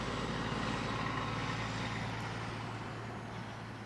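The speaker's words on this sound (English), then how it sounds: "I don't know if y'all can hear that truck" A big truck rumbles past outside with a steady low engine drone and road noise, fairly loud and slowly fading, with no talk over it.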